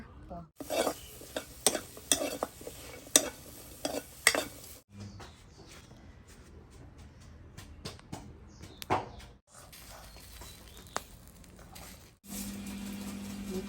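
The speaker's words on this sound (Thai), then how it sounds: "เราก็จะมาคั่วพริกกันนะคะ ทำน้ำพริกปลาร้านะคะ" Chillies are dry-roasted in a pan for a fermented fish chili paste, with sharp metallic scrapes and stirring knocks in bursts, quieter rustling stretches in between, all fairly close.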